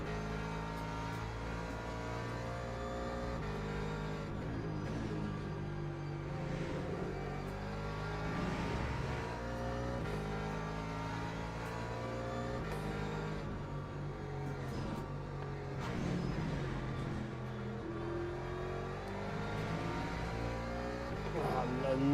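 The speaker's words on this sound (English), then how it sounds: "God, those Porsche get off the corners quick." Porsche race cars in Le Mans Ultimate accelerating hard out of corners, a steady layered engine roar with rising revs and gear changes, running continuously under a talking voice throughout.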